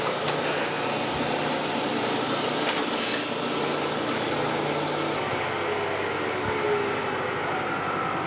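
A surface grinder takes a light finishing pass on a camelback straightedge, giving a steady loud machine whir and hiss with a faint grinding scratch, constant throughout and close by.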